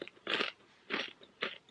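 Crunching on an iced coffee flavoured bubble tea chip: three close, crisp crunchy bites in a row, each a short burst of crackling chewing, with no talk.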